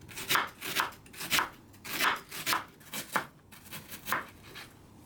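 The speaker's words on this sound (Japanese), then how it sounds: "続いて玉ねぎも皮を剥いて薄切りにしていきます" A knife thinly slices a peeled onion on a cutting board, about a dozen crisp, evenly paced cuts, close and clear with no talking.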